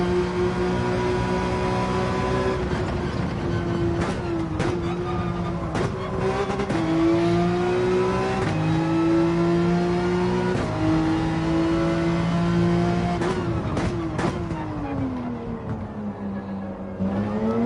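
A race car engine in Gran Turismo 7 holds full throttle through the final turn at Sardinia, its loud sustained whine rising and falling in pitch with repeated gear shifts and brief lifts over nearly eighteen seconds.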